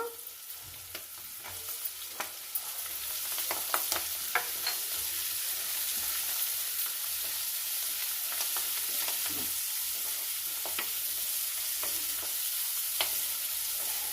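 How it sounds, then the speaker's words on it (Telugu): Onions fry in hot oil in a pan for a fenugreek-and-spinach fry, a dense continuous sizzle that swells after a few seconds, dotted with occasional stirring ticks, close and without speech. "ఇప్పుడు ఉల్లిగడ్డలు వేస్తున్నాను."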